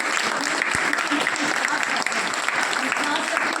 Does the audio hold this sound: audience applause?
yes